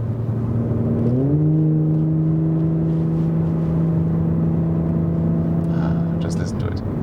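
Audi S4 sedan with a V6 turbo engine pulling hard in S mode on a freeway, a steady rising drone that climbs in pitch then holds level, loud and continuous inside the cabin.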